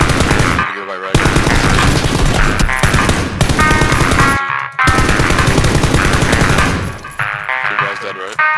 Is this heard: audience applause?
no